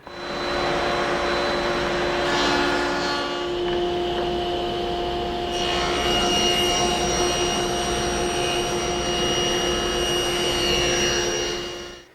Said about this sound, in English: I can go over to the table saw and rip off the actuator bars